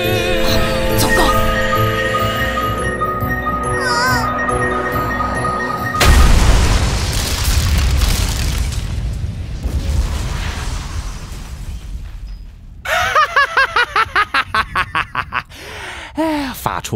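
A cartoon black magic bomb from an animated series goes off in a loud, rumbling boom after a stretch of tonal music and effects, followed by a rapid pulsing burst of effects.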